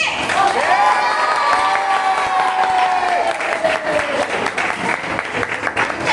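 A steady round of audience applause at a VBS stage program, close and loud, clapping holding for several seconds with some cheering and a voice briefly heard over it.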